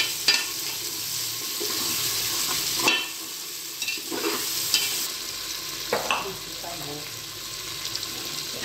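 Tomatoes dropped into a hot pan with chillies, frying with a steady sizzle while a spoon scrapes and stirs in several distinct bursts; close and clear, no talk.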